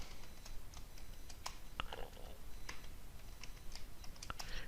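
Computer keyboard typing while writing an if-else statement in C code, a steady run of quick, close key clicks with irregular rhythm and a few sharper taps, no talking.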